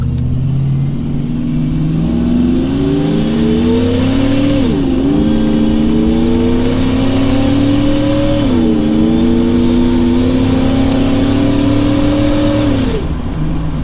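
A Procharged Chevrolet Trailblazer engine pulls at about a third throttle, its tone climbing steadily through three rising runs, each cut by a brief dip at the shift, loud and close with no voices.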